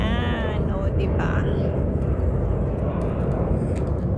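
A fixed-wing airplane takes off near the harbour promenade in Hong Kong, a broad steady engine roar filling the clip under outdoor ambience.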